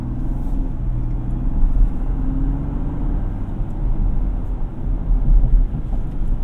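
A 2025 Ford Ranger XLT cruising on the highway, with a steady low road and engine rumble inside the cab holding an even level throughout, with no talk.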